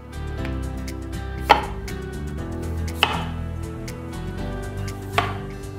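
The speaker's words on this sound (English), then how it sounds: "Once your potatoes are peeled, you just wanna cut them in half lengthwise." Three crisp knife chops through peeled organic potatoes, halving them lengthwise on a cutting board, each cut a sharp, separate thunk spaced about 1.5 seconds apart over a low steady kitchen hum.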